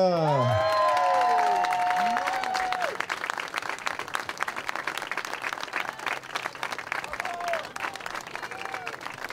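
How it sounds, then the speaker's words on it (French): Crowd applause at a professional-category award ceremony, dense clapping and cheers filling the room, with voices and a brief whistle-like tone near the start as the clapping carries on. "on peut les applaudir, on peut les applaudir"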